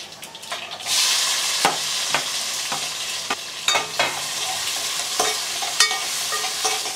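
Chillies, mustard seeds, fenugreek and cumin sizzle steadily in hot oil for a spicy kara kuzhambu tempering, a bright continuous frying hiss broken by sharp clicks and knocks of a ladle against the pan.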